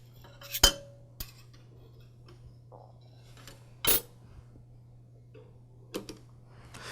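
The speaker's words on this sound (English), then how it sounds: "I like to use my magnetized screwdriver to help me place the knife onto the cutter head" A Delta TP305 planer knife is set onto the steel cutter head with a magnetized screwdriver: a few sharp, close metallic clicks and clinks, spaced irregularly over a faint steady hum, with no talking.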